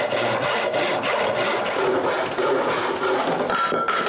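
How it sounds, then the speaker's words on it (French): A hand saw rasps across the end of a wooden board in steady back-and-forth strokes, a rhythmic scratchy sawing close by without any talking. "Je change de scie et je refais le bout de la planche."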